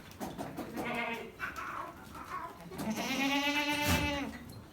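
Goats bleat several times in wavering, nasal cries, the loudest one near the end, with faint background noise and no talking.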